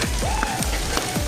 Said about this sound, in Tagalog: Ayan, nag-hailstorm na.